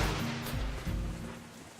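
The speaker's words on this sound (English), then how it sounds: "And it's raining!" Rain falls steadily in the visual novel Katawa Shoujo, a broad hissing wash with a low rumble beneath, moderately loud and without any voices.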